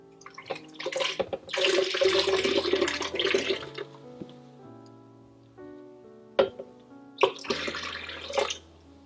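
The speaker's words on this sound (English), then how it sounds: "I put 2 cups of the coconut juice" Coconut juice poured into a container makes gurgling, splashing liquid that comes in two bursts separated by a quieter gap with a faint knock, close by and with no voices.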